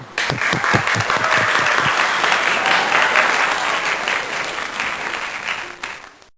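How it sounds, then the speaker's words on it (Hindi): Loud, sustained applause from a large congregation at a Sunday church worship service rises quickly, holds for several seconds, then fades out at the end. "तालियां"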